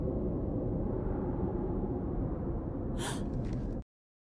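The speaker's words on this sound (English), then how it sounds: "they briefly show Shepard taking a single gasp for air" Shepard from Mass Effect 3 takes a single sharp gasp for air, a short breathy intake rising out of a steady low rumble, just before everything cuts abruptly to silence.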